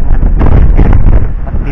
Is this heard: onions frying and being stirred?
no